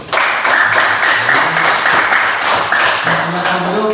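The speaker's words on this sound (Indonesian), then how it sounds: "Kita memberi aplaus kepada kelompok B." Classroom applause for a student group presenting in a school lesson, a steady burst of many hands clapping across the room, fairly loud and continuous with a murmur of voices underneath.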